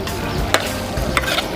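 Spoon scraping and stirring a Thai red curry of free-range chicken with kaffir lime leaves and herbs in a sizzling pan, with two sharper scrapes standing out over a steady frying hiss.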